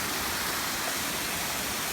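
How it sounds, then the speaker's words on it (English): Water pours through a hollow in a rock at a creek waterfall in subtropical rainforest, forming a dense, steady hiss with no breaks that sits close and fairly quiet for the full two seconds. "The waterfall runs through a hollow in that rock"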